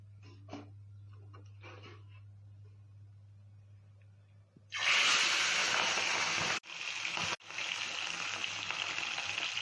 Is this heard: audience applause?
no